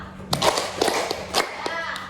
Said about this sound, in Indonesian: coba kalian tepuk tangan semua